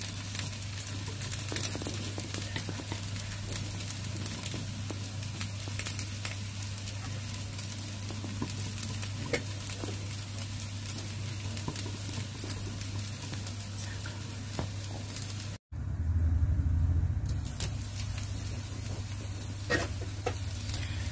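Ragi dosa frying in oil on a hot pan, giving a steady, close sizzle with a strong low hum running through it; a sharp break near the end is followed by a brief louder burst of frying.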